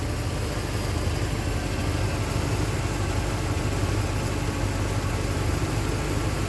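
A 1971 Chevy Monte Carlo that has been sitting for a while idles steadily and quietly, a smooth low engine hum held at an even level with no voices.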